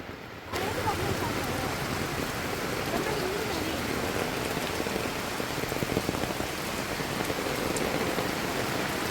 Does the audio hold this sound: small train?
no